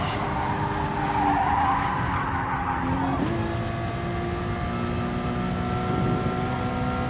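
Race car in the GT Sport racing game drifts sideways with a long, loud tyre squeal over a steady engine drone, the pitch shifting partway through as the slide continues.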